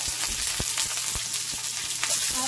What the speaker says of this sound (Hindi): अब मैं इसमें जो भिंडी है वो हम डालेंगे और इसको फ्राई करेंगे।